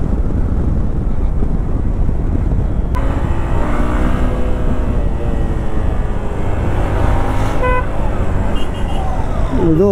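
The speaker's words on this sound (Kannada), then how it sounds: "ಕಾನ್ವೆ ಗಾಡಿಗಳು ನೋಡಿ ಹೆಂಗೆ ಹೋಗ್ತಾ ಇತ್ತು" Military convoy vehicles pass along a road amid steady traffic and wind rumble, with engine tones rising and falling as they go by.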